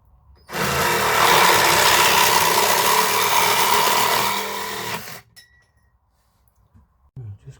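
Cheap reciprocating saw fitted with a metal-cutting blade slicing through thin steel tubing, a loud steady buzzing rattle for about five seconds that stops abruptly, then faint clinks and handling noise.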